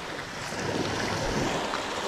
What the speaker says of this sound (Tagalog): Maalon. Malaki yung gulong ng alon.